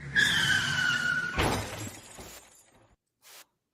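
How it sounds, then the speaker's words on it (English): A car crash sound effect: a loud tire squeal opens the impact, followed by a burst of shattering glass and crunching metal that decays into falling debris, with one last brief clatter after a short silence. "It's just a car crash. Go with the car crash sound effect."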